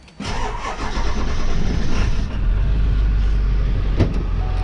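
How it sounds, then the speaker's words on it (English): A car engine cranks briefly and catches, then settles into a steady, loud idle close by, with a fuel pump cycling beforehand. "Once I hear the fuel pump fully cycling out, I usually crank it over."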